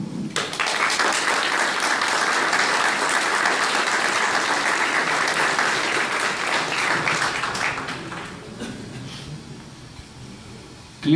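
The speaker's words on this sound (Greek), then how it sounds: "νομίζω ότι τους αξίζει ένα θερμό χειροκρότημα." A crowd at a merchant marine academy blessing ceremony gives warm, dense applause for the teaching staff, sustained and loud for several seconds before thinning out toward the end.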